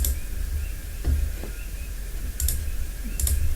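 Computer mouse clicks in Autodesk Inventor: a handful of sparse, sharp clicks, some in quick pairs, spaced over a steady low background hum.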